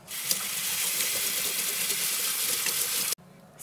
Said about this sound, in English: Rinse them well under cool running water.